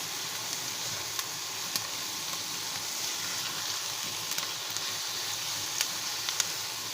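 Onions fry in a pan with tomatoes and green chillies, giving a steady, close sizzle with faint crackles and pops throughout.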